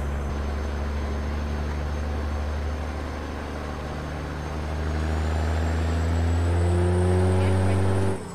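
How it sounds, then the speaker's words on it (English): Truck engine with a Cat 725 horsepower engine in American Truck Simulator, driving in New Mexico: a steady loud diesel drone that rises in pitch as it revs up, with a whine climbing above it. "It's a Cat engine in here. Sorry, Cat 725 horsepower engine."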